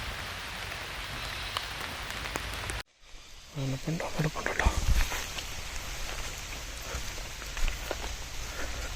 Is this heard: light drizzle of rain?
yes